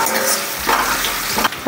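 Cumin, mustard seeds and asafoetida hit hot oil in a kadhai with a loud, close burst of sizzling and spattering, plus a brief scrape or stir, and no talk.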